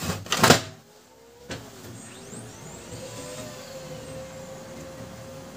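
A Brother DCP-L2540DW laser printer runs its mechanism, with a couple of sharp clunks at the start followed by a steady low mechanical whir and hum.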